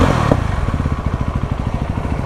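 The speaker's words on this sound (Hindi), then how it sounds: "मतलब पैरेलल ट्विन इंजन है। तो मैं आपको एक बार साउंड सुना दूँ।" A Yezdi Roadster's parallel-twin engine idles close by with a steady, loud pulsing beat through twin exhausts, opening with a brief sharper pop before settling into an even throb.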